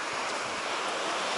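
Sea waves roll onto the shore at Zelenogradsk in a continuous broad rushing wash, steady and fairly close, mixed with some wind buffeting the microphone and no voices.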